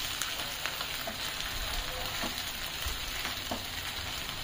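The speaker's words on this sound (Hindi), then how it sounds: "इसका जब तक कच्चापन ना निकल जाए तब तक हमें भूनना है" Ginger-garlic paste sizzles and crackles steadily in a hot pan over a high flame, with occasional scraping stirs, close and continuous, while being fried for a prawn masala curry.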